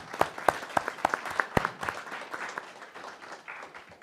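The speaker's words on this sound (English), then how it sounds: "Another round of applause for them." A round of applause at a county board meeting: a few people clapping in a small room, sharp close claps at first that thin out and fade over a few seconds.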